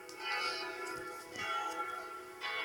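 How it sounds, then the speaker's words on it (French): Three church bells at the Notre-Dame des Sables church ring together at full speed, a fairly faint, overlapping wash of sustained metallic tones with repeated strikes swelling and fading. "les cloches sonnent très fort"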